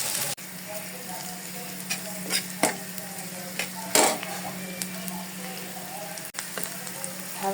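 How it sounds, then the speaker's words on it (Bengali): Chopped onions frying lightly in oil in a pan, a continuous close sizzle broken by scattered clinks and scrapes of a utensil stirring against the pan, with faint talk at moments. "পেঁয়াজ কুচিগুলোকে হালকা ভেজে নেব।"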